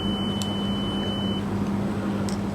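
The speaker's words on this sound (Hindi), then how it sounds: "मल्टीमीटर बीप कर रहा है।" A multimeter gives a continuity beep while testing a remote's tactile switch: one steady high tone that holds for over a second and then cuts off, over a constant low hum.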